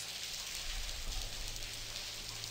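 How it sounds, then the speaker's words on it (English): Rain ambience in the point-and-click adventure game The Blackwell Convergence, a steady, even hiss of falling rain with a faint low hum, continuous and soft. "I enjoyed this rain."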